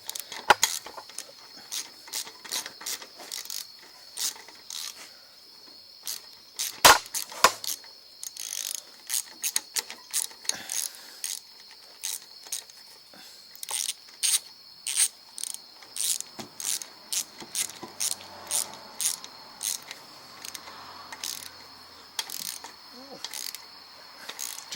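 Quarter-inch drive socket ratchet tightening bolts into the aluminum engine block of an Ariens 824 snow blower with a Tecumseh engine, rapid repeated clicking in short bursts, close and crisp, over a quiet background.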